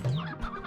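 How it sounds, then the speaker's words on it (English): A chicken clucks in Slime Rancher 2, a brief, close, fairly loud burst of clucking lasting under a second. "I want to grab these chickens for food items."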